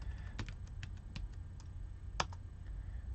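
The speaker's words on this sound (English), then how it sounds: "nobody can see me typing passwords" Computer keyboard typing while entering passwords during a Home Assistant reinstall, heard as a scattered run of light key clicks with one sharper tap near the end, faint and close over steady low room hum.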